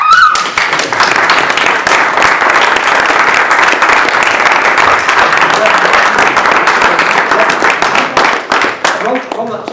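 A crowd at a Space Apps York 2015 winners announcement breaks into loud, sustained applause with whoops and cheers, clapping dense and continuous throughout and thinning slightly at the end.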